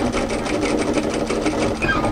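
A sewing machine stitches a cropped, tailored knit military jacket, running in a fast, steady, loud mechanical whir up close.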